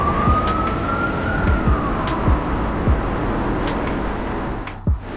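A police car siren wails loud and close in traffic, its pitch rising and falling steadily over busy road noise, with a few sharp knocks and thumps.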